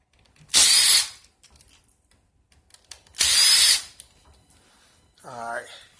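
A power drill with a Phillips bit whirs in two short, loud bursts while backing screws out of Nissan Leaf battery modules. A voice speaks briefly afterward.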